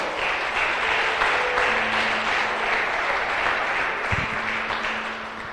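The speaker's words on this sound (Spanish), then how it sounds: "Dale fuerte aplauso al Rey de Reyes" A church congregation claps loudly for the King of Kings during a Spanish-language sermon, a dense, sustained wash of applause with a faint tone underneath.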